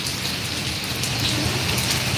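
Rain falls steadily in a Malaysian village, a loud, close, continuous wash of drops drumming on surfaces with a low rumble underneath and no voices.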